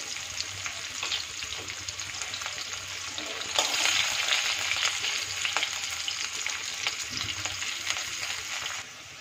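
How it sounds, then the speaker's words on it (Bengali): Chopped onions sizzle steadily in hot oil in a pan, a close, continuous crackling fry with occasional stirring clatter, going on alone without speech until it cuts off near the end. "পেঁয়াজগুলো একটু ভাজা হয়ে এলেই"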